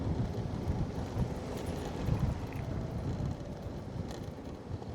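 Strong wind buffets the microphone outdoors during a DJI Neo 2 drone flight test, a dense, steady low rumble with uneven gusty swells throughout and no clear voices.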